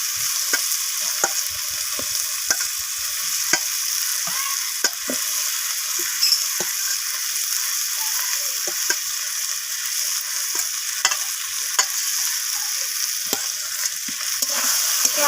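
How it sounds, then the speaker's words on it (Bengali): Fried potatoes stirred into a spice paste with ginger paste in a pan for a rohu fish curry with cauliflower and flat beans: steady close sizzling hiss broken by many sharp spoon scrapes against the pan throughout. "তো আলুগুলো দেওয়ার পর আমি সব কিছুর সাথে আবারও এইভাবে কষিয়ে নিচ্ছি।"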